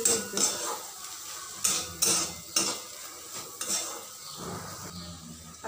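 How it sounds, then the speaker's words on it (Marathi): Usal being sautéed with spoonfuls of peanut powder in a pan, with repeated scraping and clinking of a spoon against metal and soft frying beneath, close and fairly loud in short bursts. "1-2 चमचे शेंगदाण्याचा पूड टाकून घ्यायचा आणि छान असं हे खाली घ्यायचं. परत 2 मिनटं छान असं परतून घ्यायचं."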